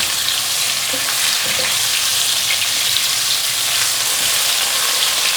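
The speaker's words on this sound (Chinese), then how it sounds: "大概翻炒一下" Celery and tofu stir-fry in a pan with a dense, loud, continuous hiss of frying close by and light stirring beneath it, no voices.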